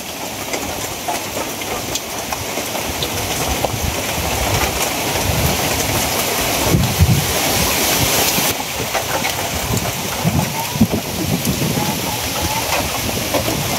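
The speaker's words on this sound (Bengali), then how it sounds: "কি দুমছে বৃষ্টি আইছে আর গরু ভিজতেছে" Heavy rain pours down steadily outdoors where cattle stand getting soaked, a dense continuous hiss and patter with gusts of wind, and a voice speaks intermittently beneath it.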